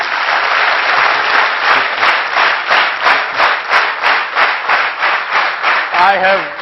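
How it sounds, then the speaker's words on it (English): Seminar audience clapping in tight unison, a loud, steady series of synchronized claps at an even rhythm, about fifteen beats, with a voice starting to speak at the end. "I have never seen clapping done in such a coordinated manner."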